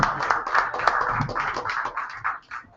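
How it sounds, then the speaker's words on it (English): Audience applause at an open mic night at a cafe venue, a dense burst of clapping hands that fades over a few seconds. "one more big round of applause for Leon there."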